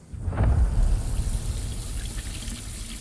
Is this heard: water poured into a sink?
yes